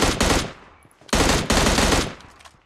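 Automatic gunfire in the mobile battle royale game PUBG Mobile: two loud, rapid bursts of shots, the first fading out before a second, longer burst that tails off, with no talking.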